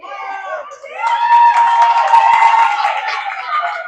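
Girls cheer and shout in the stands at an ice hockey game, a burst of high excited voices that rises and holds loudly for a few seconds, close and lively.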